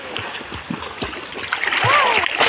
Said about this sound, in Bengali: নিশান সাঁতার মারছ